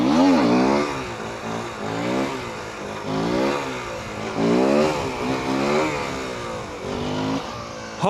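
A 125cc four-stroke motorcycle revs hard for a wheelie, its engine note rising and falling in repeated surges across several throttle blips, loud and close with no talk.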